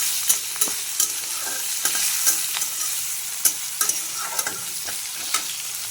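Garlic fries in hot oil in a pan while a utensil stirs it, a soft steady sizzle punctuated by sharp scraping clicks at an irregular rhythm, close and moderately quiet.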